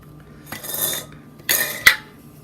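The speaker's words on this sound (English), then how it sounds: "I'm going to add my pesto, and I'm going to add my evaporated milk." A spoon drops pesto into a crockpot and clinks against the pot and utensils. Two short scraping bursts are followed by one sharp clink, close by and with no talking.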